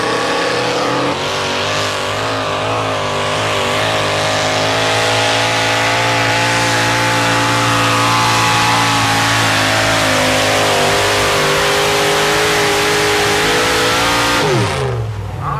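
A pulling tractor engine roars at sustained high revs for a long stretch during a 1987 tractor pull, pitch wavering and slowly climbing, then abruptly cutting off at the end.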